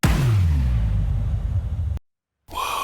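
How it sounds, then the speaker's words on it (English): A heavy impact hit from a future bass track lands at once with a deep booming low end and a sweeping tail, then cuts to silence before a brighter synth sound enters. "Add an impact."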